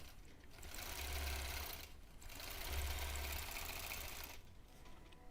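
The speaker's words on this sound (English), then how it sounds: "That pulls the upcoming fabric under the needle just a little bit faster" A sewing machine stitches fabric during free-motion quilting of a palm leaves design, its motor humming steadily in two long runs with a brief pause between and another stop near the end, close and alone.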